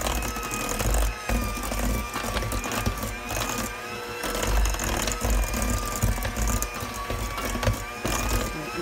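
An electric hand mixer's beaters whir steadily through thick peanut butter bar batter, a close, continuous mechanical buzz with small shifts in pitch as the load changes.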